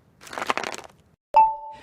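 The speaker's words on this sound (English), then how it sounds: "That's the intern Dale, cracking ice for a soda." A burst of crackling and crunching, then a sharp crack with a ringing tone as ice for a soda splits, heard close up with no talking.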